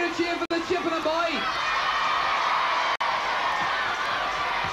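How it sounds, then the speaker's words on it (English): A crowd cheers and whoops for a Chippenham contestant at a 1982 outdoor team games contest, a broad sustained roar under a commentator's voice, with a whistle-like tone early on. "Let's hear a cheer for the Chippenham boy"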